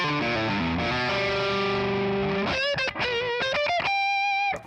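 Driven electric guitar lead with sustained overdriven notes, then quick bending phrases and rapid picked runs, loud and close with no talking.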